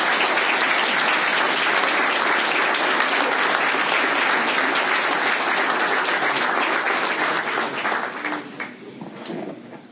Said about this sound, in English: They were clapping and smiling.